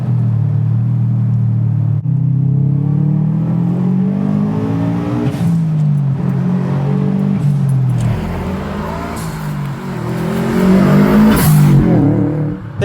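A 2002 Subaru WRX STi bug eye with an EJ207 engine rumbles and revs from inside the cabin, its pitch rising and falling through gear changes, loud and close throughout.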